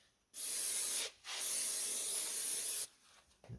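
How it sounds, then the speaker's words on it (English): Carburetor cleaner sprayed from a can into a freshly bored John Deere B engine block: two close, loud hissing bursts, the first brief and the second longer, with near silence before, between and after. "Get some carb cleaner in there."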